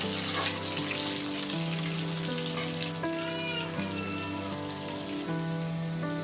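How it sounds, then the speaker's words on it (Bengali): Pointed gourd and potato pieces frying together in a pan, giving a steady crackling sizzle over the whole stretch, partly masked by louder sustained musical tones playing on top. "লালচে করে ভেজে নেব। ভালো করে ভাজতে হবে।"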